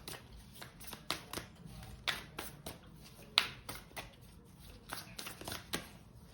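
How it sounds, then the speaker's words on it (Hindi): Tarot cards being drawn and shuffled from a deck, a quiet close-up series of crisp papery flicks and snaps in an irregular rhythm against a soft low background hum. "अब हम निकालते हैं आपके लिए कुछ टारो कार्ड्स"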